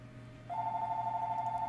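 A cell phone rings inside the Crossout vehicle combat video game, a steady electronic tone that switches on partway through and holds at moderate level over a low background hum, with no talk.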